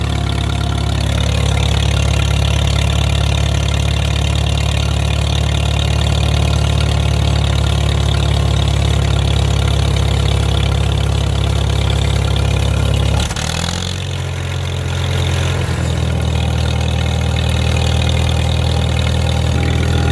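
A heavy tractor engine idles steadily and loudly with a deep, throaty rumble, dipping briefly midway before resuming its even drone.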